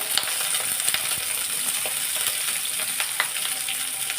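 Eggplant, beans and pumpkin pieces frying in hot oil in a pan, a steady close sizzle with scattered small pops and crackles throughout, no voices.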